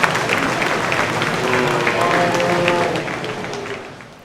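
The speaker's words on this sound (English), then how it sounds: "Let's give all these young people another round of applause for a job well done." An audience at a youth livestock exhibition gives a warm round of applause, a dense burst of clapping that holds steady and then fades out over about four seconds.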